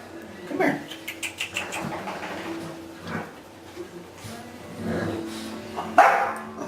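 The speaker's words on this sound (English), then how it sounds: "who are you barking at?" French Bulldog barking indoors near a litter of puppies, several short barks and yips at moderate distance, with a person's voice talking in between.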